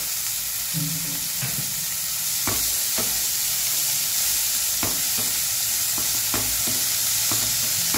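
Carrots and capsicum frying with onions and green chilli in a pan, a steady close sizzle broken by repeated sharp scrapes and clinks of a spatula stirring at uneven intervals.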